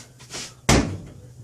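A car passenger door is struck shut once after its latch has been reinstalled, giving a single sharp, loud bang with a short rattle afterward, close by. A softer knock or shuffle comes just before the impact.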